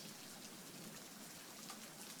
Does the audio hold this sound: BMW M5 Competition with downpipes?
no